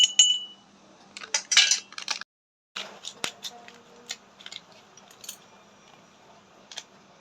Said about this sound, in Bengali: এবারে হাফ চামচ খাবার সোটা দিয়ে দিলাম।